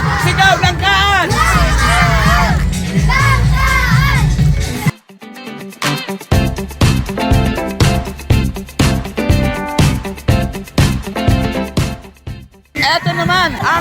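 A crowd at the Tondo fiesta street dance in Manila yells and whoops over loud festive music, then sharp rhythmic drumbeats drive the dance while cheers rise and fall in the background.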